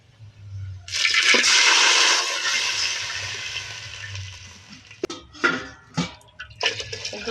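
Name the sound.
pouring water onto rice for cooking pulao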